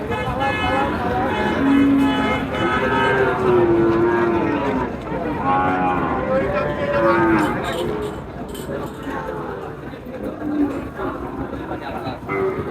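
Cattle lowing at a busy rural livestock market in Sonaichandi, Chapainawabganj, Bangladesh, where heifers are traded. Several long, drawn-out moos rise one after another over a constant hubbub of crowd chatter and voices.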